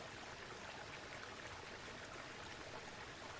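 Falling water from a natural waterfall pours in a steady, dense hiss and rush, continuous and even, heard faintly and alone.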